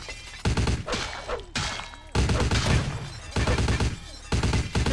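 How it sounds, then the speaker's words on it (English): Heavy gunfire in the vampire RPG Vampire: The Masquerade – Bloodlines, with rapid bursts of loud shots and impacts repeating throughout, dense and close, in several clusters separated by brief lulls. "They're shooting a lot, aren't they?"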